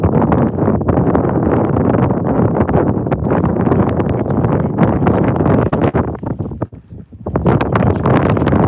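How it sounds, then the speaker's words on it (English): Strong gusts of winter wind buffet the microphone outdoors at a New Jersey trout fishing spot, a loud continuous rumbling roar with a brief lull near the end. "the wind picked up"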